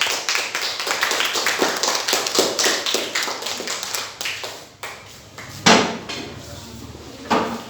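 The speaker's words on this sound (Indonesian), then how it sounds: "Beri tepuk tangan untuk Rika dan Davina." Students in a classroom clapping, a dense run of applause with irregular sharp claps that thins out midway, then a few louder bursts near the end.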